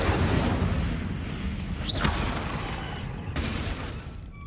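Incendio fire spells in the Hogwarts Legacy video game, a dense roaring blast of flame and crackling bursts that stays loud and continuous, with a brief whooshing sweep partway through.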